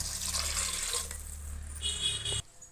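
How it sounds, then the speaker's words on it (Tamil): Water pours steadily into a cooking pot for mushroom biryani, a continuous splashing rush that fills the space, close and fairly loud, then cuts off abruptly near the end. "இதில் நம்ம ரெண்டு படி அளவுக்கு தண்ணி ஊற்றணும்"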